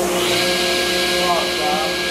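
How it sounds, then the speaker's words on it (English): A workshop dust collection system runs with a steady, loud motor drone and airflow roar that holds for the whole moment, close by, with a voice faintly under it. "Turn on my dust collection."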